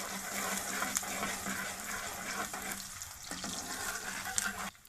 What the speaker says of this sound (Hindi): प्याज फ्राई होना शुरू हो गया